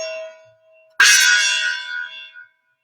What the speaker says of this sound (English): I think we need to bang the gong